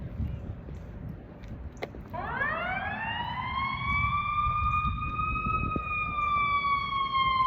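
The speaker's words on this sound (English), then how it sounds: "Oh, there goes the siren." An emergency vehicle siren rises from about two seconds in and holds a steady wailing tone for the rest of the clip, heard at a distance over outdoor wind and a low, continuous rumble.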